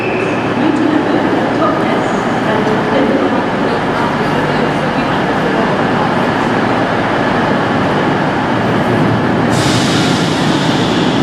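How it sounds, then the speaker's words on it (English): A train at a station in northern England, a loud, sustained rumble of a passing or arriving train with rolling wheel noise and a bright hiss near the end, heard up close. "Right, this is our next train now."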